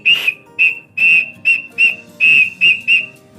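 Double sawangan pigeon whistle giving eight close, shrill whistle tones in short bursts of uneven length, each separated by brief gaps, with no talking.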